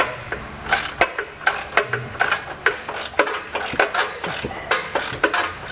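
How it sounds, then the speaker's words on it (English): Ratchet wrench with an 18mm socket working bumper nuts loose on a 2022 Jeep Wrangler frame, a rapid run of sharp clicking pawl strokes in irregular bursts, close and fairly loud, with no talking. "You're going to use an 18mm socket."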